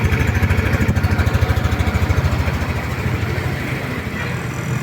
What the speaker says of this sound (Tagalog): Yung talagang natural na tunog lang po ng kanyang muffler.